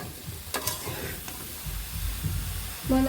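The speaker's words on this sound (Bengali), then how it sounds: "এবং পরিমাণ মতো লবণ দিয়ে দেব এভাবে কিছুক্ষণ কষিয়ে নেব" Vegetarian lentil curry with dal bori and green chillies sizzles in a pan as it is stirred, a close, steady frying hiss broken by a few sharp scraping clinks of the spoon.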